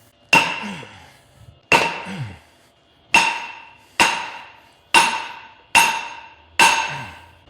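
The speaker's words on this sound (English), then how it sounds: "So I'm gonna take my sledge and bump the end of the rod." Seven sharp metallic clanks from a sledgehammer striking the end of a hydraulic cylinder rod on a log splitter, evenly spaced about a second apart with ringing decay, close and distinct.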